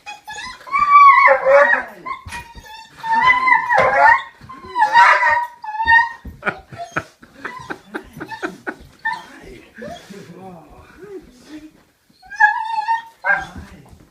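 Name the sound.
dog whimpering and barking greeting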